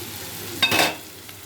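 Food frying in a pan with rock salt gets a single quick stir, a short scraping sizzle rising over a faint steady frying background.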